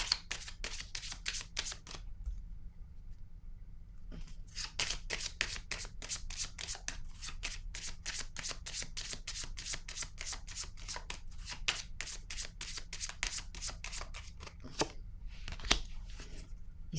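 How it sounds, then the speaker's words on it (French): A deck of cards is shuffled at close range in long runs of rapid, crisp riffling clicks, with a brief pause early on and a few separate snaps near the end as a card is drawn. "Je vais piger maintenant une carte ici."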